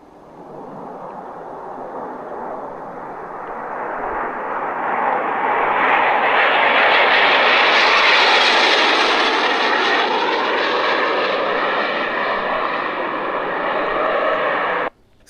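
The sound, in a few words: jet aircraft flying nearby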